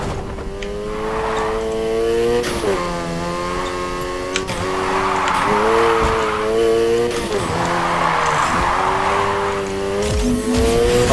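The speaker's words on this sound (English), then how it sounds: "Now try and hold those drifts." A Mazda RX-7 in Need for Speed Heat drifts through corners, its engine holding a steady high note while tires squeal in long sustained bursts that rise and fade with each slide, loud and continuous throughout.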